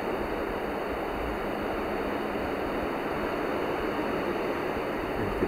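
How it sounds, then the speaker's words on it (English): Sea waves crashing at sunset in Rethymno, Greece, a steady, even roar of surf with no distinct breaks, moderately loud and heard without any talk. "You can hear the sounds of the waves crashing."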